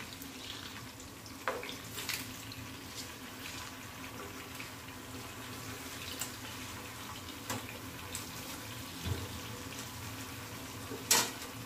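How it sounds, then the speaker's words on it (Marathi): Malvani-style Surmai fish coated in green masala frying in a pan, a faint, steady sizzle with occasional soft clicks and light knocks, low in level and unaccompanied by talk. "आता आपण हे 10 मिनिटं एका बाजूनी फ्राय करून घेऊ"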